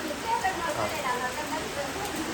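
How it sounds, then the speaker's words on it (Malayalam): Heavy rain falls steadily in a constant broadband hiss of drops, with voices faintly present beneath the downpour. "നല്ല മഴ പെയ്യുന്നുണ്ട്"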